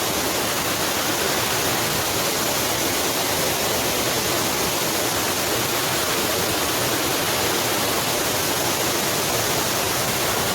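The Kothayar twin waterfall roars as a loud, steady, unbroken rush of falling water, filling the whole span with dense noise and no voices.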